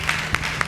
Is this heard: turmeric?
no